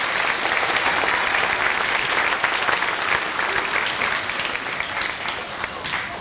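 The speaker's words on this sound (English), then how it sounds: "Can we give her a big round of applause?" An audience at a grade-school spring concert breaks into sustained, dense applause that fills the room for several seconds, steady and even before easing slightly toward the end.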